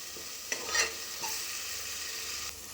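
Ginger garlic paste fries in oil in a pan while a spoon stirs it, giving a constant close sizzle broken by a few scraping strokes and a soft clink, with no voices.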